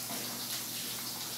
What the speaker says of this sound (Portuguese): 200 ml de açúcar dissolvido em 200 ml de água